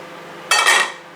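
Chickpea and lentil dal being spooned out onto two plates at home, a short burst of utensil scraping and clinking against crockery after a quiet lead-in, close and fairly loud, fading out after half a second.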